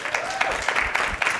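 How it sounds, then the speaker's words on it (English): An audience at a beach pitch competition claps in a full, continuous round of applause for a contestant, close and lively with a few sharper claps standing out. "Give her another round of applause."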